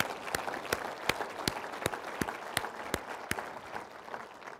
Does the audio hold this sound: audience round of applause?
yes